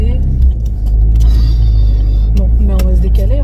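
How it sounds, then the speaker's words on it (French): Two large trucks roll past in the right and left lanes on a road, a loud, close engine rumble and roar that stays steady while a person talks over it. "J'ai 2 gros camions, il y en a un sur la voie de droite, l'autre sur la voie de gauche."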